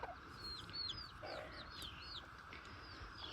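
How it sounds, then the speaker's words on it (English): Young chicks on a homestead cheep and peep in a soft, scattered chorus of short rising calls, faint and steady against quiet outdoor background. "I think we might have 4 hens and 4 roosters of the little chicks"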